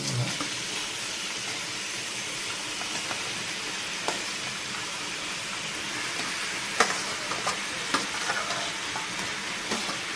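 Mutton fries in a pan with a loud, even sizzle and hiss, broken by occasional sharp clinks and scrapes of stirring, with no talking.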